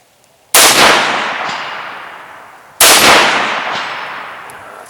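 Two loud, close 6.5 Grendel rifle shots roughly two seconds apart, each a sharp blast followed by a long rolling echo outdoors.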